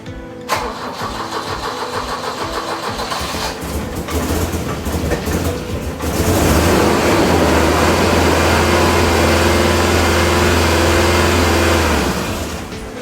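A 1985 Volvo 244 turns over and fires after more than ten years of sitting, first a clattering crank, then a loud, steady idle with a low engine drone that holds close and continuous until it fades near the end.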